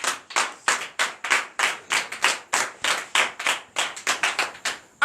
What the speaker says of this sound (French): donner de vives acclamations